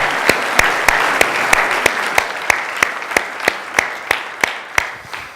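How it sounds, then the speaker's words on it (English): An audience at a service claps together in a sustained round of applause, a dense, steady patter of many hands with sharp individual claps standing out near the front. "Give yourselves a round of applause for stepping up and stepping in."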